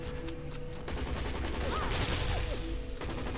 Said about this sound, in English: I just keep on shooting these buggers.